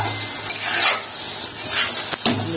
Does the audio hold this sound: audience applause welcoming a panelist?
no